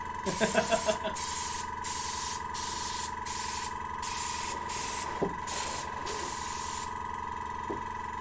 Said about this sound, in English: airbrushing is brilliant, I love it